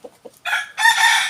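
A fighting rooster crows close by, a couple of short clucks leading into a loud, raspy cock-a-doodle-doo in two rising bursts.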